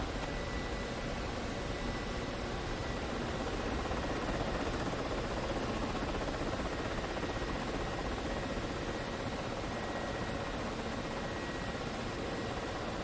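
A Fed gunship's engine in a space flight-sim game gives a steady, dense roar that holds at an even loudness throughout, with no talking.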